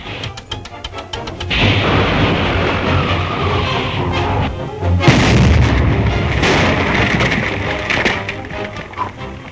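A loud, rumbling explosion with heavy booming bursts swells and rolls on for several seconds in an old crime drama, with no talk over it.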